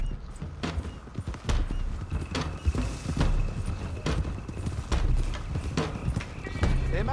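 Horses galloping in Red Dead Redemption 2 as a group rides out, with a steady, loud drumming of hooves close by and an occasional snort, while voices talk over the riding.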